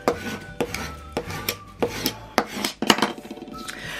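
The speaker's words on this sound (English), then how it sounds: "let's just do some more burnishing" Firm rubbing strokes of a burnishing tool pressing a vinyl decal onto a glass block, a dozen or so short rasping passes in an irregular rhythm, close and moderately loud with no talking.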